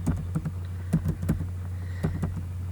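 A file name is typed on a computer keyboard in short irregular bursts of soft clicks, close up over a steady low hum, with no talking.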